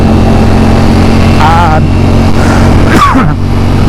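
A Ducati Streetfighter V4 motorcycle with its stock, dampened exhaust runs at a loud, steady idle, its low engine drone continuous and close as someone talks over it.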